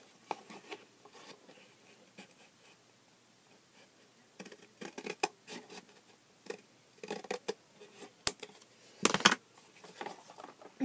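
Scissors snipping paper for a Lalaloopsy dollhouse bathroom, soft intermittent crisp cuts and rustles in scattered clusters, close but quiet, with a sharp click near the end.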